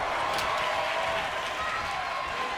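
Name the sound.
crowd cheering in WWE 2K23 video game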